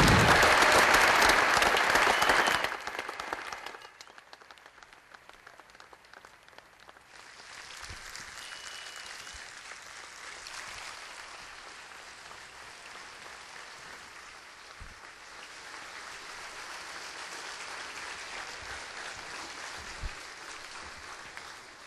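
Fans at Dick Howser Stadium at FSU applaud during a tribute ceremony, a loud burst of clapping and cheering at the start that drops sharply, then lingers as a quieter, sustained spread of distant clapping and crowd noise.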